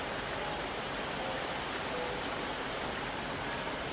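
Steady rain from a radio drama, a dense, even hiss of falling water that holds without break for the whole stretch at moderate level, with no voices.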